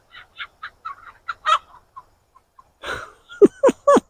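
Chickens on a homestead cluck close by in short, separate bursts. A brief pause is followed by a few louder, throatier clucks.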